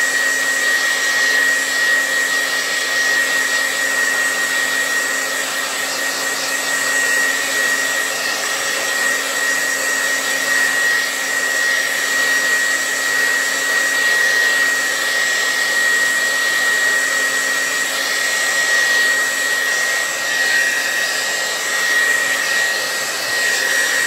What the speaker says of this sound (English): I'm just going to do a little blow dry on this to make sure it's dry.